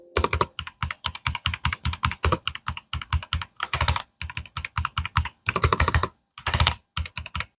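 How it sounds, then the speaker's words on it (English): Keys clack on an ASUS ROG Strix Scope II gaming keyboard in quick, crisp bursts, single presses alternating with dense rapid runs of typing, close and loud with no talk. "Let's actually hear some of the keycaps over there with the NX knob."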